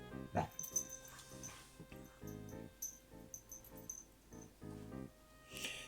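A dog whimpers and yips repeatedly in short, fairly faint bursts, with a steady background hum underneath.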